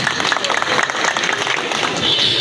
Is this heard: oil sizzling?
no